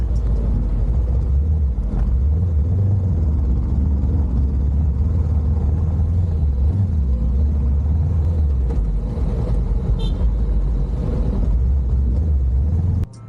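Steady road traffic on a highway under construction climbing toward Baguio, with a continuous loud low rumble of car and truck engines passing close by.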